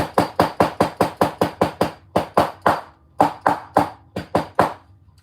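A hammer strikes a thick fabric seam on a sewn compact clutch in quick, evenly spaced taps, about twenty close sharp blows in bursts with short pauses between.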